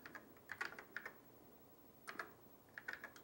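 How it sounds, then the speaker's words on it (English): Keys clack in short bursts on a Commodore SX-64 keyboard as a command is entered, with quick irregular taps grouped into a few clusters separated by pauses, fairly faint and close, with no talking. "I type in this sysop command."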